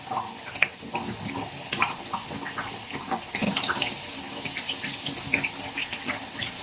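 Pieces of besan (gram flour) dough for laddu fry in hot oil, giving a close, steady bubbling sizzle dotted with small crackles and pops.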